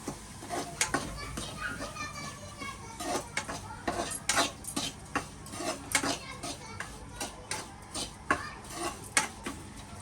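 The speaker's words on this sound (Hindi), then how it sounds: "250 ग्राम सूजी ली है, तो ये मैंने डाल दिया। इसको थोड़ा भूनती हूँ।" Semolina roasts in hot ghee for halwa while a spoon stirs and scrapes a metal pan in quick repeated strokes, clattering steadily over a faint sizzle, with a voice talking in the background.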